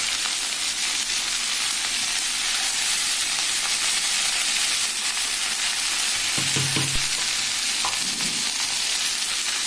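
Ghatkol leaves fry in a pan with a continuous, bright sizzling hiss, close and steady, broken briefly by a few low clatters as the greens are stirred.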